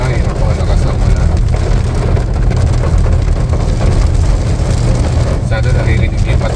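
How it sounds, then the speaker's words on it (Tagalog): Heavy rain drumming steadily on the roof and body of a sedan travelling the winding Bitukang Manok road in Quezon province, a dense continuous patter filling the cabin throughout. "Sana naririnig yung patak ng ulan."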